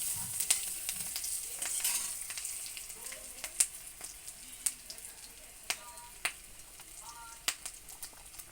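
Dried chillies, cardamom, black cardamom, cinnamon and bay leaf sizzle in hot oil for a chicken curry base, a soft continuous hiss broken by sharp spatters and pops, with occasional light stirring.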